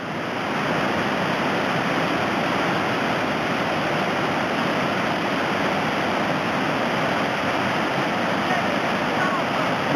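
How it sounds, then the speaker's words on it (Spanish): The Ciñera stream in the Faedo de Ciñera woods near La Pola de Gordón, León, rushes down in a loud, dense, unbroken roar of churning water heard up close. "Vaya cómo baja el agua"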